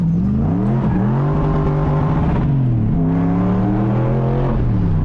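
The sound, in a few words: V8 car engine hitting rev limiter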